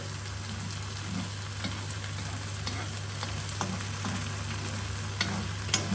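Eggs, spinach and tomato frying in a pan, a steady close sizzle with soft scraping and stirring taps spread through, no talking.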